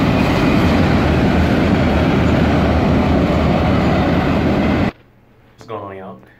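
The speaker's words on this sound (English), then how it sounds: "Trains." A train rumbles past loudly and steadily in Fort Pierce, then the noise cuts off abruptly and a brief voice is heard in the quiet that follows.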